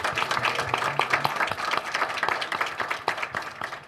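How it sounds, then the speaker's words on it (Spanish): An audience at a university literature colloquium applauds steadily, many hands clapping in a dense, continuous patter throughout. "así que un tremendo aplauso a los dos"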